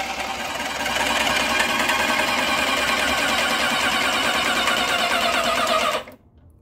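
Graco airless paint sprayer pump running under pressure with a steady, loud mechanical buzz and rapid pulsing for about five seconds, then cutting off abruptly to near silence.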